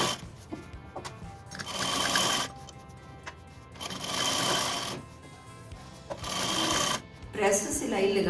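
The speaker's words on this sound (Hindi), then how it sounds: "इस साइड मतलब आउटर साइड हमने इसकी प्रेस स्टिचिंग करनी है" A domestic sewing machine press-stitches the outer side of a princess-cut kurti in several short, close bursts of rapid whirring, with someone talking in the gaps between runs.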